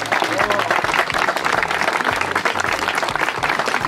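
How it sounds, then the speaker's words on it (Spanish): Lively applause and clapping from a gathering at a sport fishing event, honouring the women anglers, with a low hum of voices and crowd noise mixed in. "un aplauso a las mujeres por la presencia hoy acá"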